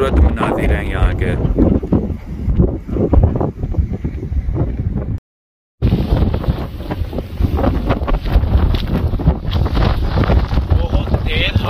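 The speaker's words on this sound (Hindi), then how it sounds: "बहुत तेज हवा चल रही है, ठंड बहुत लग रही है" Strong wind gusting hard across the microphone beside a river, a steady loud roar with brief buffeting, cut by a short dropout midway; a voice is present under the rush.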